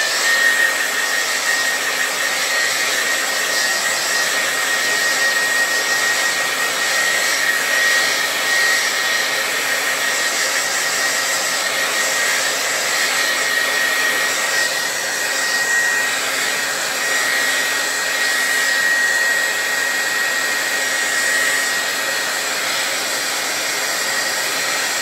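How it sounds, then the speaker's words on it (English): A blow dryer runs steadily and loudly throughout, a continuous whooshing motor drone with a faint high whine. "We might have to add my blow dryer."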